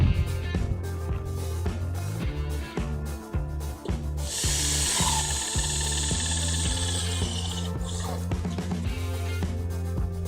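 A power drill drives screws into clips that hold a picket rail section. It gives repeated short whirring bursts, then one long loud high-pitched run, with the motor close and no talk.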